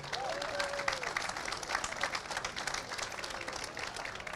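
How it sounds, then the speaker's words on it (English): A crowd at a Ramadan community food event in Liverpool claps for food bank and support volunteers, a continuous moderate patter of applause with a faint voice briefly audible over it. "Can we have a round of applause for fan support and food banks, please?"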